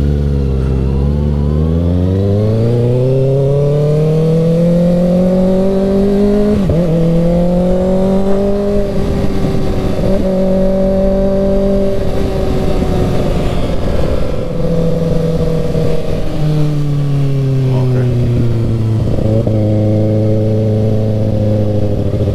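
A 2024 Kawasaki ZX6R 600cc sport bike on a night ride, its engine loud and close with harmonic tones rising and falling through repeated revs and gear changes, droning continuously with no talk.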